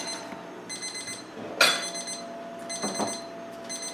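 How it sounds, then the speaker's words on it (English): A kitchen timer rings in a kitchen where whole wheat einkorn buns are baking, sounding as repeated bright electronic beeping bursts at a moderate level, with a clatter partway through and no talk. "the timer just went off"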